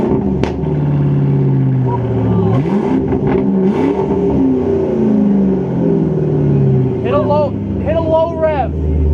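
A 2005 Ford Mustang with a 4.6L V8 and Borla ATAK exhaust rumbles deeply with several rising revs, heard close up while people talk over it.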